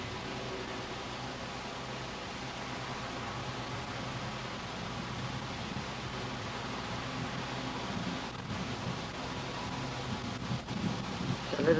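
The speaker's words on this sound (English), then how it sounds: "It's a little bit windy over here." Wind blows steadily across the microphone in an open outdoor spot near a ship, a soft broadband rush that swells slightly toward the end, with no one talking.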